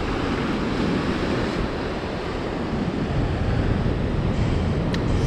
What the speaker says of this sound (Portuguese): Essa é a mais famosa piscina de Bondi